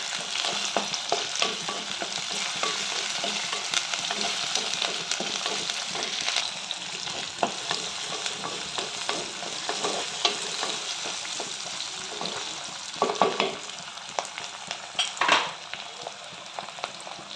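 Tomatoes frying in a pan alongside green chillies for a coconut prawn and pumpkin curry, with steady sizzling under repeated scraping stirs, close and fairly loud, no talk.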